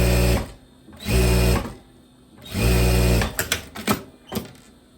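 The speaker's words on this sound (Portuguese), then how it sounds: "Costurando bem na beiradinha." Sewing machine stitching close along the edge of a dress hem, three loud whirring bursts separated by short pauses, followed by quick clicking stops and starts near the end.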